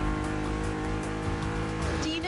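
A BMW Z sports car in The Crew Motorfest revs loudly with a strained engine drone and tires squealing on asphalt, close and constant, with a voice talking over it.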